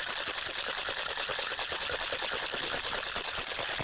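A cocktail shaker holding egg white is shaken hard and continuously, giving a dense, steady rattling wash of ice and liquid for a few seconds without pause, close and loud, with no talking.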